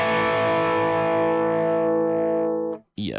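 A sustained distorted electric guitar chord rings out through a NuX Trident amp simulator with a chorus-like shimmer, fading for about two and a half seconds before a brief muted scrape and a short burst of noise.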